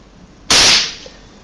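A string-pull toy popper tied between the fingers is stretched until it goes off: a single loud, sharp bang close by that decays quickly into a quiet room.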